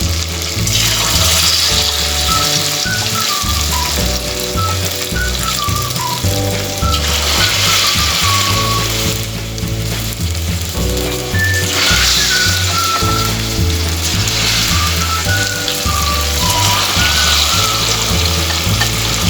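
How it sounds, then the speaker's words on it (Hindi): Paneer pieces deep frying in hot oil in a kadhai, a steady, bright sizzle and crackle that runs unbroken and loud for the whole stretch, with background music playing along underneath. "अब हम पनीर के पीसेस को एक एक करके तेल में"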